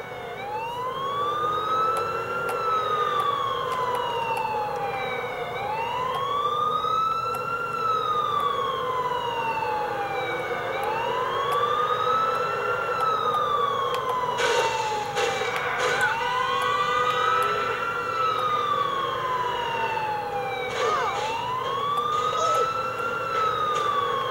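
Police car siren in Grand Theft Auto IV, wailing loudly and continuously in steady rising-and-falling sweeps over a low vehicle rumble, with a few brief clattering bursts partway through.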